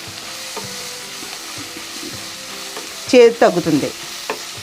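Onions fry in a pan for a bitter gourd stew, a soft sizzle with light stirring and a short louder burst of clattering near the end, and a few words spoken.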